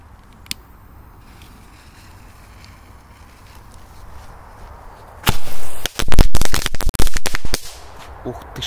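After a quiet stretch with one small pop, a Big Jumbo firecracker explodes inside a toy tractor, a loud burst of rapid bangs crackling close by in a dense, sharp volley.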